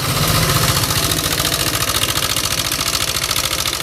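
A Yamaha Aerox scooter engine runs loud and close with a steady, rough rattling knock throughout, a rapid ticking pulse riding over the droning idle.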